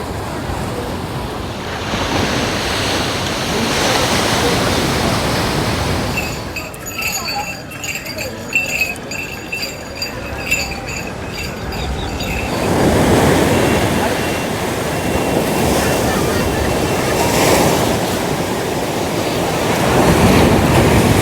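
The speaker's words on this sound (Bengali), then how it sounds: "ভালো লাগছে সকালবেলাটা শুধু ঢেউয়ের আওয়াজ" Sea waves wash onto the beach at Digha in the morning, rolling surges rising and falling in broad swells with wind noise, plus a stretch of clinking glass in the middle and a voice speaking.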